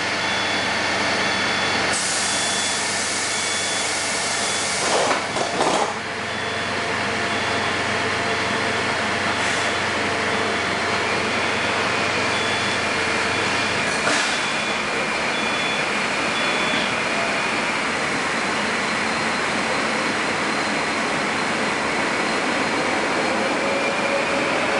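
Moscow metro 81-760/761 train at a station, a loud steady rumble with brief door-closing thumps and air-brake release before the train pulls away, the roar continuing steadily throughout.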